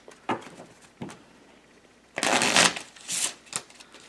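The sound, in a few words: shuffling playing cards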